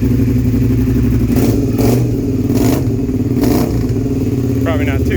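A Suzuki SV650 motorcycle engine runs on choke, idling loudly and steadily close by with a few rhythmic revs swelling over the drone.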